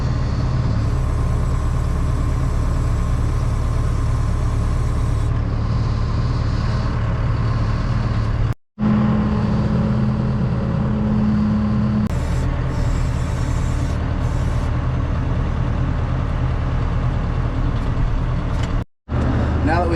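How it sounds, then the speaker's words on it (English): A farm tractor engine runs steadily at close range for twenty seconds, a continuous low rumble with a droning hum and two brief cutouts, while people talk over it. "I typically do the tractor driving when it comes to this"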